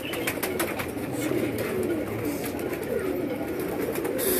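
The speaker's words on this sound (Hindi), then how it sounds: "तो ये जी इनका एक और कबूतर है।" Pigeon cooing outdoors, soft repeated low coos over a busy background of rhythmic clicks and ambient noise, with no clear talk.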